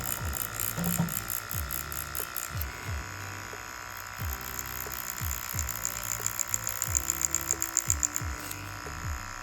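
A tattoo machine running at slow speed buzzes steadily while its needle shades real skin in quick dot-work movements, producing a faint electric hum with rhythmic pulses throughout.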